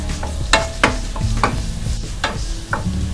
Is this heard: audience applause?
no